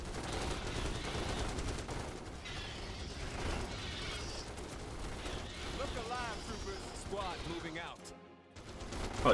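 Machine gunners firing in Starship Troopers Terran Command, bursts of automatic fire and clanking battle noise layered under radio-style voices talking, continuous and busy with a brief drop near the end.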